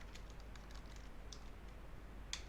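Light, quiet typing on a computer keyboard while entering figures into a cash receipts journal, scattered soft key clicks over faint background hiss.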